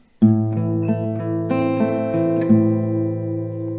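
A plucked acoustic guitar plays a short, slow melody, notes ringing over a held chord, close and clear with no voices.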